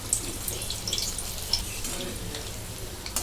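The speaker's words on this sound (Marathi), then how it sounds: "आता तळायला घेते एक एक एक एक गोळे सोडून घेते" Manchurian balls frying in oil, dropped in one by one, produce a steady, dense sizzle with a constant bubbling hiss and small crackles, close and even for the whole short stretch.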